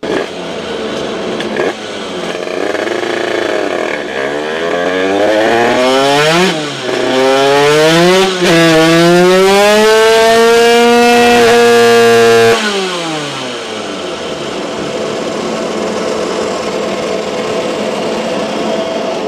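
A scooter engine fitted with a Keihin PWK carburetor runs loudly nearby, revving up and down in rising and falling sweeps, holding high revs, then dropping back to a rough idle.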